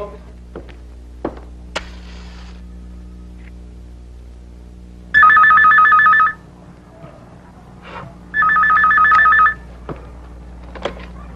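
A telephone rings in two loud, steady bursts about two seconds apart, with soft thuds and room noise between them, in a scene from a Tagalog feature film.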